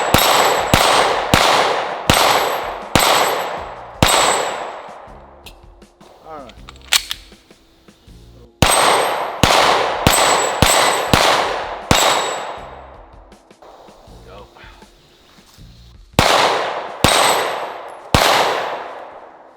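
Ported CZ P-10C pistol fired outdoors at steel targets, sharp loud shots in quick bursts of four or five, each followed by a ringing metallic clang, with pauses between strings.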